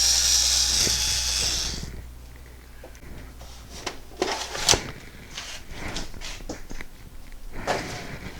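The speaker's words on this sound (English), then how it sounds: "I've got the correct bit that goes in my noisy cordless screwdriver" A cordless screwdriver with a Torx bit whirs briefly at the start while removing screws from a Magnavox CDB586 CD changer, followed by scattered clicks, clacks and handling knocks of parts close by.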